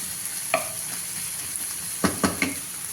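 Chopped onion and ginger frying in oil in a pan for a mutton drumstick curry, a constant soft sizzle broken by a few scraping, clacking stirs of the spoon.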